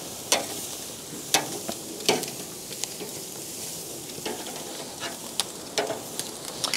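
Chicken sears on a hot Weber Ranch Kettle over Fogo lump charcoal, a steady loud sizzle broken by sharp crackles and pops from the fire, with no voices.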